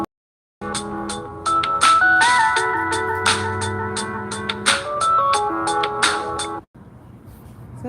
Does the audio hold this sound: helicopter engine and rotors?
no